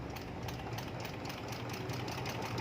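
A sewing machine stitches trouser seams with a fast, steady mechanical chatter, quiet and continuous with no talking over it.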